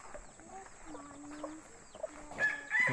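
A chicken clucks softly along a jungle trail to a waterfall in Labi, Brunei, with a few short clucks over a quiet outdoor background and a brief louder rustle near the end.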